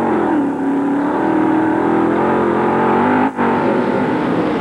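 Onboard engine of Andy Hillenberg's sprint car racing at the 1995 Knoxville Nationals dirt track, a loud, sustained droning roar that holds steady pitch with a brief dip near the end, no voices.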